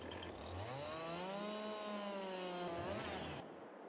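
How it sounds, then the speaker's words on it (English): Chainsaw in Farming Simulator 22 in Korpi, Finland, revving up into a sustained, steady buzz as it cuts a tree, then cutting off near the end, heard alone and up close. "Chainsaw"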